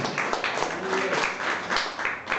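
A church congregation applauds during a sermon, producing a moderate, continuous patter of many hands clapping, fairly close and steady for a few seconds, with a voice faintly underneath.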